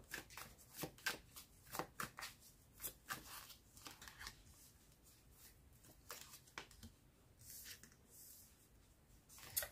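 Tarot cards shuffled for a reading, repeated quick riffling flutters and soft slaps in uneven bursts, close but quiet, with no talking over them.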